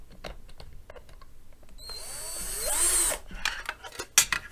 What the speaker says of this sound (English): I don't know if the drill will actually go through tin or not.